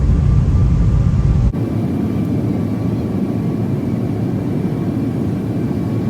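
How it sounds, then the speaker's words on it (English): Singapore Airlines airliner on approach to land at London Heathrow, heard from inside the economy cabin as a loud, steady broadband engine and air roar that shifts slightly in tone early on and then holds constant. "the aircraft approached London Heathrow to land"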